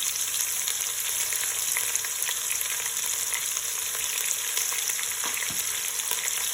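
Sliced big onions and green chilies sizzle steadily in hot oil for tomato rice, a close, continuous frying hiss with a few faint stirring clicks toward the end.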